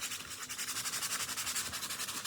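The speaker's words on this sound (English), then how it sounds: "So again, my 220 grit sandpaper." Wood is rubbed with 220 grit sandpaper in quick, regular back-and-forth strokes, a soft, close scratching rhythm that is faint and steady throughout.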